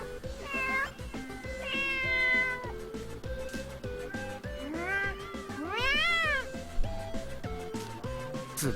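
A cat in the video game Tokyo Mirage Sessions FE meows repeatedly, several rising and falling meows close up over a quiet background.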